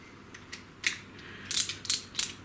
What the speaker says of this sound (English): like a ratchet screwdriver, or indeed a motorized screwdriver.